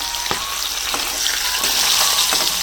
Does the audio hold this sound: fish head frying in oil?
yes